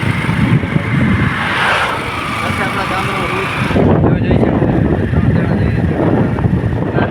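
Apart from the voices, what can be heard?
motorbike riding toward the village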